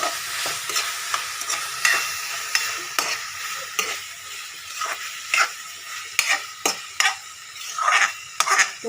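Boiled moong dal is stirred in a hot pan for Maggi noodles khichuri, giving a steady scraping of a spoon against the metal with soft sizzling and occasional sharp clinks. The stirring is close and continuous, and nobody speaks.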